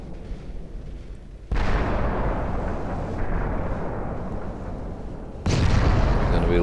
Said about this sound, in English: There we go, the 8-inch guns have opened up.